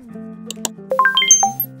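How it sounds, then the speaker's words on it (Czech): A battery-powered talking toy mobile phone plays its new-message ringtone, a short bright rising run of electronic chimes heard alone and close after a steady low hum. "Co to zvoní? Přišla ti zpráva."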